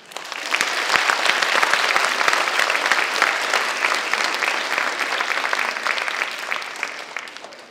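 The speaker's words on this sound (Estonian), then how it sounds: "teeme veel ühe aplausi meie soojendusbändile" A crowd at a school playback show event gives a warm-up band a full round of applause, dense, lively clapping that rises quickly and stays strong and even for over seven seconds.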